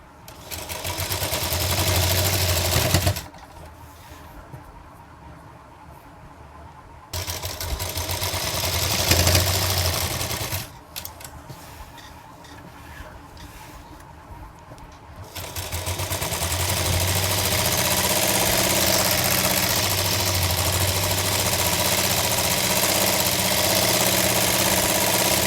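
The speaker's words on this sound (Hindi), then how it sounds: "अब हम यहाँ से अपनी सिलाई को शुरू करेंगे" Sewing machine stitching fabric for a girl's umbrella frock, a steady mechanical run in bursts separated by short pauses, close and fairly loud, with no talking.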